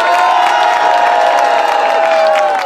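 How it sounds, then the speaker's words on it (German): A concert audience at a show in Greimerath cheers and applauds for the conductor Vincent, a dense, steady roar of clapping and whoops that fills the whole stretch without letup. "Ein Applaus etwas für Vincent im Voraus"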